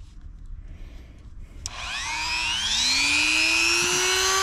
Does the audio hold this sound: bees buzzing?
no